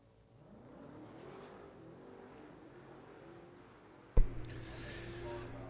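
Nine-flat drag racing cars accelerate down the track at a Lonestar Rivals drag racing event: a low, distant rumble hangs for several seconds, then a sudden loud burst gives way to a steady, droning engine roar.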